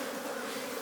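Honeybees buzz steadily around a hive in Newfoundland during a walkaway split, a close, dense and continuous drone with no voices.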